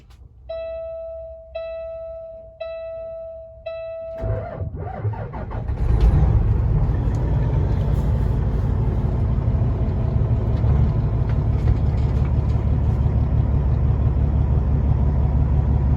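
A 2014 Peterbilt 389 glider flattop truck chimes through four warning beeps, then its engine cranks and catches, settling into a loud, steady, deep diesel idle close by.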